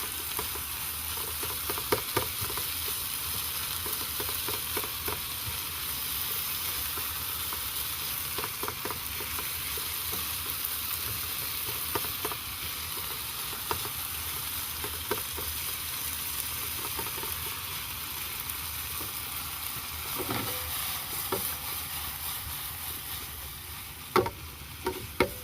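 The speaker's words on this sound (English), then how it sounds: "I'm going to go in with some red peppers" Red peppers fry in a pan with a constant soft sizzle, punctuated by occasional clicks and light stirring taps over a long stretch, close and moderately quiet, with no speech.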